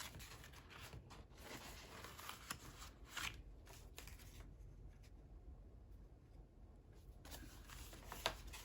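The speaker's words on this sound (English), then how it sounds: "I could almost fussy cut that out" Quiet, close snipping and rustling as paper is fussy cut with scissors for a junk journal, with irregular small cuts and paper handling at low volume throughout.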